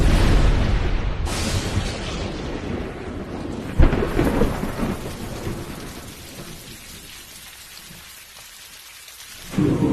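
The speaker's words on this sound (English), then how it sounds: "Tropical storms lash the planet." A tropical thunderstorm with heavy rain pouring down: a sharp thunder crack early and another loud clap a few seconds later over a dense roar of rain that eases into lighter patter before swelling again.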